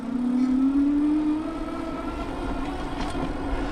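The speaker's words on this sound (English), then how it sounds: "We're gonna see what the bike can do on the bike's own power." Electric hum of a Tower Beach Babe electric cruiser bike on throttle alone, a steady whine rising in pitch as it accelerates, then holding level at top speed with constant road noise.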